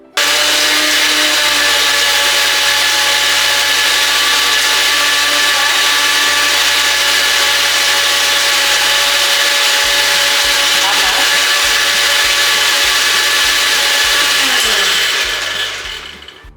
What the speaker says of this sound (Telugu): దీనింటిని కూడా ఒక్కసారి మిక్స్ చేసుకోవాలి.